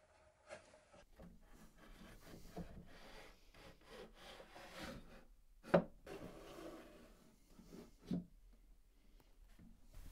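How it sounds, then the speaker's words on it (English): A wooden drawer for a bedside table has its back corners beveled by hand, quiet rhythmic rasping strokes against the wood with a couple of louder knocks, close by, no talking. "the back corners get a small bevel to make it easier to insert the drawing in its opening."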